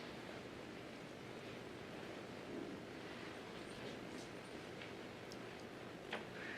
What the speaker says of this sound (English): a little gurgling stream in the Wichita Mountains